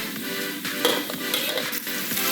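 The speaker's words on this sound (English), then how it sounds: "Add 2 stalks of chopped curry leaves. Saute well." Chopped curry leaves sauté in a wok with green chili, giving a steady, close sizzle with intermittent stirring scrapes throughout and no voices.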